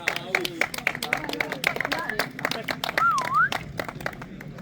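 Scattered clapping from a small outdoor crowd at a kart race podium ceremony, with brisk uneven claps under an announcer's talk and a brief whistle partway through.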